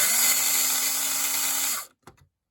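Cleaned and oiled SCX Ferrari 333SP slot car motor running at a steady high-pitched whine, loud and alone, for under two seconds before cutting off, followed by a brief faint rattle.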